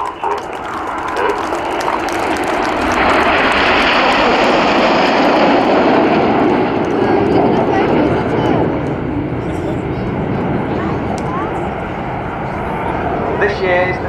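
Jet aircraft flying in display formation at the RAF Cosford Airshow: a loud jet roar builds over the first few seconds, holds as a broad, close rush, then eases slightly and swells again at the end.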